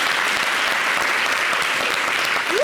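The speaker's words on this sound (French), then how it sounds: "Merci de l'applaudir." A continuous burst of audience applause in a television studio show, many hands clapping at a steady loud level with no pauses.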